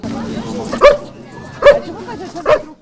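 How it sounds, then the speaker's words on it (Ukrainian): A police service dog trained to detect explosives gives three short, loud yipping barks at close range at a police-run children's event in Dnipro, with crowd murmur beneath. "Біля службового собаки Енара відразу вишикувалася черга з охочих погладити пса"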